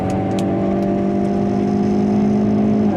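A Hyundai Veloster N with an 8-speed dual-clutch automatic accelerates hard in fourth gear at Yongin circuit, its engine droning loud and steady with a rising whine.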